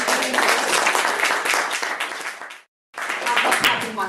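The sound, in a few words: audience clapping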